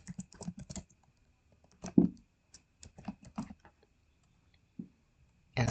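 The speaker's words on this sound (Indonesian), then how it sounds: "tahan shift dulu baru di enter" Computer keyboard keys are pressed one at a time in scattered clicks and short bursts, including holding shift and hitting enter, close and clear with quiet gaps between taps.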